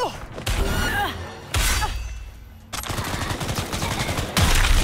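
Rapid bursts of gunfire and thudding impacts in the video game Cyberpunk 2077 Phantom Liberty, loud and close, with machine-gun rattles, single cracks and shattering between brief pauses.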